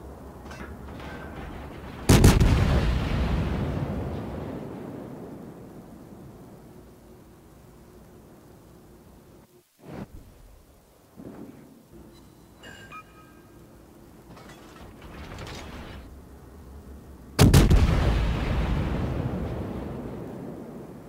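Artillery fire in a video game: two heavy booms about fifteen seconds apart, each a sharp blast followed by a long rumbling decay, with a quiet ambience and faint thuds between them.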